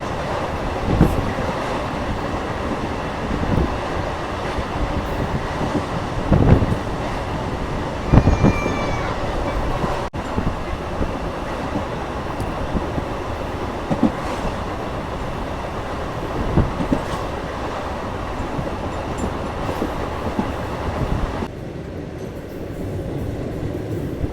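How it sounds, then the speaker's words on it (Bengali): A MEMU passenger train running between Katwa and Ahmadpur after leaving Gopalpur, with a steady rumble, rhythmic wheel clatter and occasional squeals, heard close from inside the carriage for the whole stretch. "আমাদের ট্রেনটি এখন গোপালপুর গ্রাম থেকে ছেড়ে দিল"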